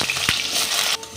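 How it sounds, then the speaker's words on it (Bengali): Salted, diced potatoes fry in hot mustard oil with a steady, close hiss and sizzle that cuts off abruptly near the end of the short burst. "এই আলুটা ভেজে নেব।"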